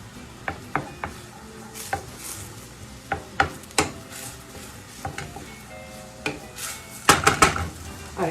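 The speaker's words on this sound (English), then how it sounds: "let's keep stirring this a little bit." Al dente pasta for carbonara is stirred in a metal pan, with repeated sharp clinks and scrapes of a utensil against the pan over a low sizzle, loud and close, growing busier toward the end; no talking.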